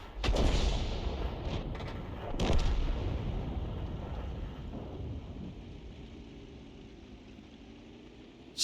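Heavy artillery fire in the World of Tanks game booms out in two deep, rolling blasts early on, each decaying into a long rumbling tail that fades toward quiet.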